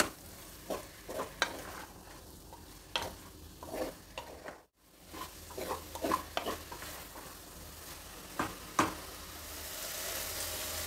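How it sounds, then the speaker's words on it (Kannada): A spoon scrapes and stirs vegetables with spices and thick curd in a pan, giving repeated soft scraping strokes over a low sizzle, with one brief pause midway. "ಈಗ ಎಲ್ಲ ಮಸಾಲೆಗಳನ್ನು ತರಕಾರಿ ಹೀರ್ಕೊಳ್ಳೋ ಥರ ಚೆನ್ನಾಗಿ ಮಿಕ್ಸ್ ಮಾಡೋಣ"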